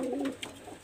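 Close, low cooing from a Pakistani high flyer teddy pigeon opens the moment and then fades, followed by faint rustling and a small click.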